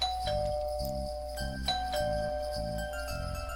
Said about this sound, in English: Man, all the doorbell ringing